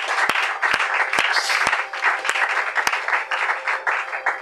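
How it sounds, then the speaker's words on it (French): Loud audience applause and cheering for the priests at a French-language spiritual gathering, sustained clapping from a full hall with sharp individual claps standing out, no speech over it. "Est-ce que quelqu'un peut acclamer très fort pour les pères?"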